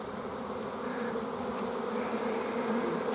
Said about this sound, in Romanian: pe porțiunea din față aici, este foarte multă albină